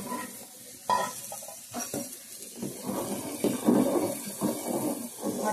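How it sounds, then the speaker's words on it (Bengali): An egg fries in a pan with a continuous crackling sizzle, mixed with stirring, scraping and watery kitchen sounds at close range, uneven in loudness, without speech. "এদিকে ডিমটা ভাজা করা হচ্ছে, ডিম ভাজা হবে।"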